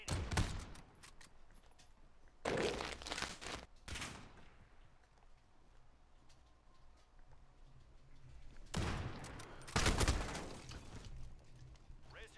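Gunfire in an online shooter match rings out in several bursts of shots, loud volleys with quieter stretches between them and no talking.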